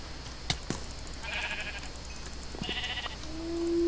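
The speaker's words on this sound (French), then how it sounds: "Il y a des moutons de couleur." Colored sheep in the video game Sky bleat in short, faint calls a couple of times over a quiet ambient game backdrop, ending with a rising tone.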